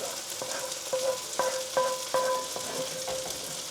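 A Dijon pan sauce simmers in a hot pan after steak cooking, giving a steady, gentle sizzle close up, dotted with light clinks and scrapes from stirring.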